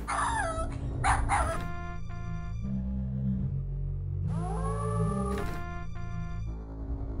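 A dog in the King's Quest VII video game gives synthetic yips and whimpering barks, bright pitched calls in short bursts over game music, near and clear.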